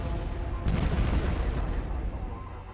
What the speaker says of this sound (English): the US Air Force launch another airstrike